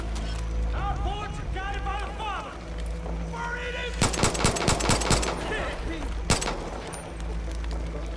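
Gunfire in the Far Cry 5 video game, several rapid bursts of loud close shots and a later single crack, mixed with game sound effects and engine hum while a voice talks over it.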